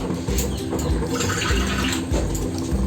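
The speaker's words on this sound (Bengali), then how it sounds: "আর একটু জল দিয়ে দিলাম" Water poured from a bowl into a pan of spicy dhaba-style egg masala curry, a steady close splashing and gurgling pour lasting the whole moment, alone without talk.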